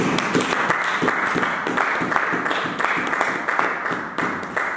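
A church congregation applauding and cheering during a service, dense sustained clapping with rhythmic accents mixed with crowd voices, close and steady throughout.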